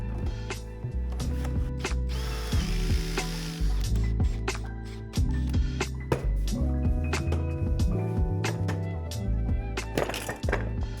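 A Forstner bit bores a hole in wood with a spinning, grinding drone, interrupted by several pauses and restarts as the waste is cleared, with knocks and handling clatter between bursts, close and fairly loud.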